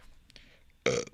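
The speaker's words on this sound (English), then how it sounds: "that was a pretty good burp" One loud, close burp bursts out abruptly and lasts about a quarter second, standing out against a quiet background with faint murmurs before it.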